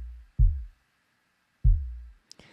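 Two punchy kick drum hits processed with transient shaping, evenly spaced, with a short low thump, added click and quick decay, followed by a faint tick at the end.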